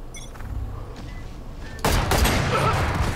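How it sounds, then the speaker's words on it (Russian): A loud burst of gunfire erupts partway through a Valorant match, with sharp cracks over a steady background rumble of game audio. "И с одного выстрела меня сносят просто."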